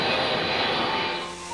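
Loud, steady roar of an airplane engine, broad and continuous, easing slightly toward the end, with no voices.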